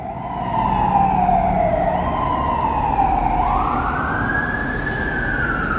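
A loud fire truck siren wails through downtown Toronto at night, its pitch sweeping and rising as the truck passes close by, echoing between buildings over traffic rumble.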